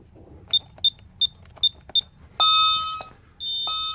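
Honeywell Vista 10SE alarm keypad arming away, giving five short, evenly spaced key beeps followed by two longer, louder electronic tones, heard close up in a quiet room.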